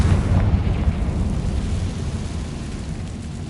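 Confringo fire spell explosion in the video game Hogwarts Legacy: a heavy, rumbling blast with a deep low boom that rolls and slowly fades, loud and without talk.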